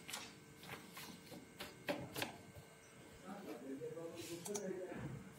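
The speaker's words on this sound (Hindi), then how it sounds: "अब जैसे इसको बंद कर देंगे और प्रिंट आउट देंगे" HP M1005 laser printer feeding and printing a page, faint mechanical clicks and whirring rising into a rolling run near the end, with someone speaking quietly over it.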